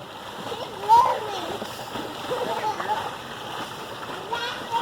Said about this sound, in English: Swim underwater, Joe.